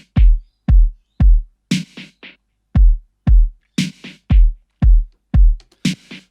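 Sampled drum track built in an Ableton drum rack from sounds recorded on Mars: a steady loop of deep booming kicks with bright snare-like hits and short noisy bursts, loud and dry, with no voices.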